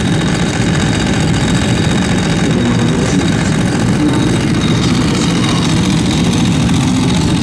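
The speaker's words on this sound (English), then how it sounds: "Clutching that Ducati sounds awesome." A Ducati 749R motorcycle engine running at a classic race meet, a loud steady low rumble with slight rises in revs, close and unbroken for the whole stretch with no voices.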